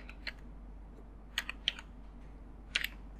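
Computer keyboard keys tapped while entering a CAPTCHA, a few sparse, crisp clicks in small clusters over a low electrical hum.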